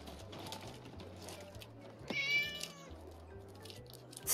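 A cat gives a single clear, drawn-out meow in the middle of a soft, quiet scene, with faint low background sounds and no speech.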